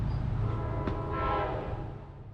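Metro-North Railroad's Conrail Heritage Unit 201 locomotive passing through Norwalk, Connecticut, a steady low engine rumble with a sustained horn blast rising over it, heard from nearby.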